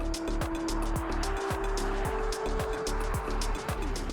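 A 2024 Nissan X-Trail SUV with a three-cylinder engine accelerates to overtake on a highway, its engine drone climbing steadily in pitch over constant tyre and wind roar heard from inside the cabin.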